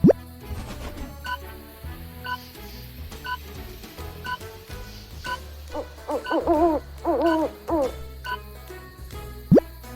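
An owl hoots in a few wavering calls, loud and close, over a backdrop of plopping, ticking effects and a soft musical bed, ending with a sharp rising swoosh.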